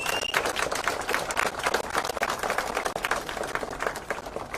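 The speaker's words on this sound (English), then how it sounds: "Let's give chief guest a round of applause." Round of applause for the chief guest at a Kenyan political gathering, dense steady clapping from a crowd filling the space without a break.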